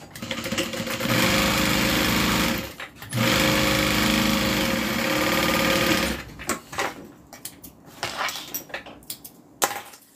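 A sewing machine stitches a slip pocket onto a bag in two long steady runs with a short pause between, followed by scattered handling clicks and rustles.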